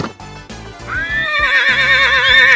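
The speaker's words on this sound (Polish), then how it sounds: "Koń rży." A horse gives a loud, close, quavering whinny that rises and holds for over a second, preceded by a few hollow hoof clip-clops, in a children's educational cartoon.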